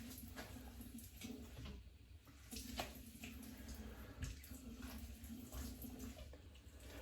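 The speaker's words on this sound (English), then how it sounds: "Here, let's try to rinse some more of this off." Running water rinses shave lather off skin with a steady, soft splashing wash from a tap, faint and continuous, with small shifts as hands move through the stream.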